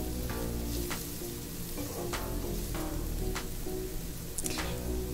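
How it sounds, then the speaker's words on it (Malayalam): Sliced onions fry with turmeric in a pan for a Kerala fish molly, giving a steady loud sizzle with a few sharp scraping stirs spread through it. "ഇനി വാടി വന്ന ഉള്ളിയിലേക്ക് മഞ്ഞൾ ചേർത്തിട്ടൊന്ന് മൊരിയിച്ചെടുക്കാം"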